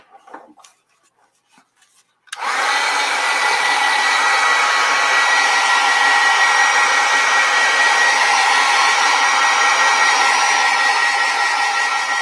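A hair dryer drying acrylic paint, a few faint taps and rustles before it switches on abruptly into a loud, steady whooshing roar that runs to the end.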